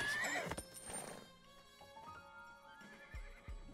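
A horse in the Western video game Desperados 3 gives a sharp whinny, then snorts, with a few hoof clops and shuffles close by. The sounds are clear and nobody talks over them.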